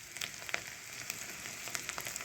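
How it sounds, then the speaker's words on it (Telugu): Mustard seeds, cumin and dried red chilies tempering in hot oil give a soft, steady sizzle with scattered crackles and small pops. "ఇప్పుడు నేను పోపు వేసేస్తానండి."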